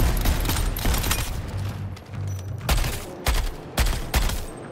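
Dense gunfire in the Suicide Squad: Kill The Justice League video game, loud sharp sniper rifle cracks punching through a continuous rumbling battle bed of shots and booms, up close.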